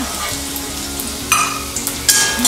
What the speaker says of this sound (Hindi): मटर को भी हल्का सा टॉस कर दीजिए